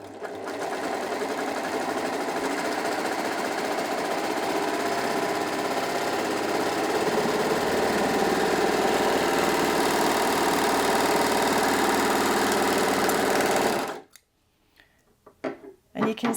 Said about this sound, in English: I'm going to go ahead now and sew the 3-thread rolled hem